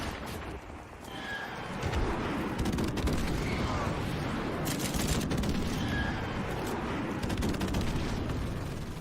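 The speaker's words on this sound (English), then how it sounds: "Friendly airstrike on the way" Heavy rumbling gunfire and explosions from a friendly airstrike in the video game Call of Duty Modern Warfare, a dense, continuous barrage that swells loud after the first two seconds and keeps roaring to the end.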